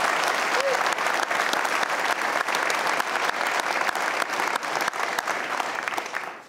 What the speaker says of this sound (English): I think applause would be appropriate